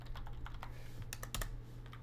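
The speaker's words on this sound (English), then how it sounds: "I can type" Typing on a computer keyboard: a quick run of close, crisp key clicks over a low steady hum, with a denser burst of taps midway.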